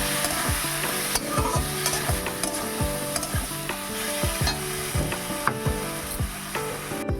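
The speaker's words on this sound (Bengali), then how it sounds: "সামান্য পরিমাণ একটু জল দিয়ে ভালো করে নাড়াচাড়া করে নেব" Fish curry of parshe fish with a little added water is stirred in a pan, giving a steady sizzle with rapid repeated scraping and clacking of the spoon against the pan, close and without speech.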